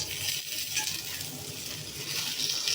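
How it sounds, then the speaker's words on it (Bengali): Homemade ghee sizzling in a hot pan while paratha with beef and jackfruit seed mince is prepared; a steady, bright crackling hiss, close and continuous, with no talk. "একটা ঘি দিয়ে রাখতেছি।"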